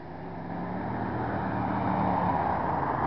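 A 1988 Ford F-150 custom pickup drives along the street, a steady engine and road rumble that rises slightly in level and holds constant for a few seconds, with no talking.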